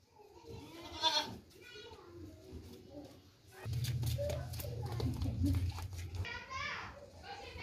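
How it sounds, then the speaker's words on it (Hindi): A large male goat bleats amid a lively outdoor farm scene, with a few bleats rising over children's and adults' chatter and a low rumble in the middle. "ये बकरा देखें"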